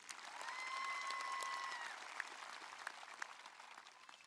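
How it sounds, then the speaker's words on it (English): Soft, distant applause from a high school graduation crowd honoring graduates entering the military, a low steady patter with a few sharper claps and faint tonal sounds above it. "let's give them another round of applause for their commitment to the United States of America"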